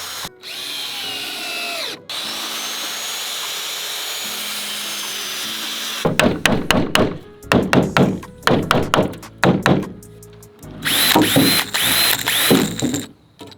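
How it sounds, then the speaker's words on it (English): Power drill driving screws into deck pieces on a jon boat being converted into a bass boat, a series of loud, close bursts of whirring and ratcheting after a quieter stretch, no talking. "start cutting pieces out and screwing them in"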